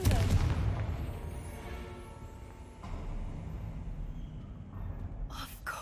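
A Confringo blasting curse explodes in the Hogwarts Legacy video game, a loud burst at the start that rumbles and fades into a lingering low tail, with a fainter thump a few seconds later.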